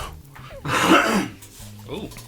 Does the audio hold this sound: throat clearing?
yes